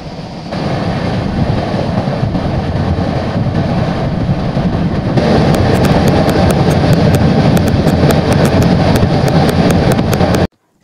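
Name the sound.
train pulling into New Farakka station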